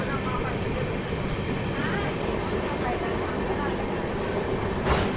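The Shalimar to Vizag express, an eleven-coach train, runs with a steady broadband rail roar and rattle, heard from on board near Kolaghat.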